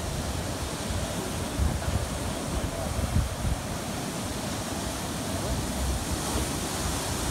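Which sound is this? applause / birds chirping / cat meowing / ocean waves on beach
ocean waves on beach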